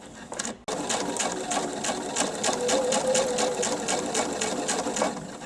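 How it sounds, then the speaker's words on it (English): A sewing machine stitching slowly at a steady pace beside a wire in a homemade face mask, its needle thumping in an even rhythm, close by and continuous with no talking. "we're going to sew forward and we're going to try to get as close to that wire as we can"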